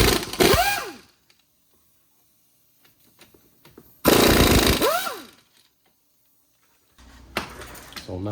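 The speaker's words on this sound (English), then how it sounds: "we're gonna start by removing the 2 bolts from the sliding pins" An impact wrench with a 17 mm socket removing the caliper sliding pin bolts on a 2009 Lincoln MKS, two loud, close, rattling bursts about a second long each, separated by quieter shop noise and faint clanks.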